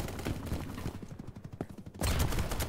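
Gunfire in a large 254-player capture-the-flag video game, a dense, loud burst of rapid shots that thins out briefly and then returns with full force at the end.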